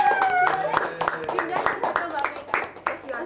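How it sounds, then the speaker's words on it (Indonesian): A group applauding during a mental health peer counseling discussion session: quick, dense claps run throughout under a voice talking. "Oke, tepuk tangan dulu."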